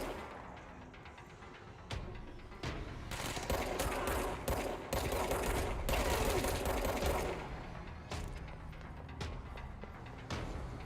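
Sustained bursts of automatic blind gunfire in the video game Control rattle loudly for several seconds, with sharp individual shots punctuating before and after the main barrage.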